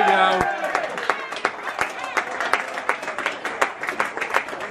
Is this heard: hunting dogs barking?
no